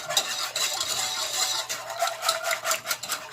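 A whisk beats vegan gluten-free gravy in a pot with fast, steady metallic clicking and scraping against the sides, close and continuous.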